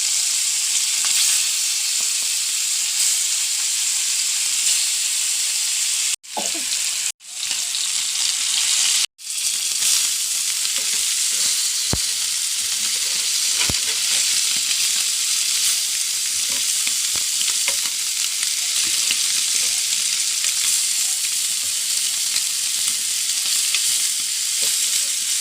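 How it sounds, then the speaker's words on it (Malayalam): Small sardines fry in hot oil in a pan. The sizzle is loud, steady and crackling, lasts about twenty-five seconds and is briefly cut off a few times early on, with no voices. "ഇവിടെ മീൻ വറുക്കാടാം. ചട്ടി വെച്ചു, എണ്ണ ഒഴിക്കണം."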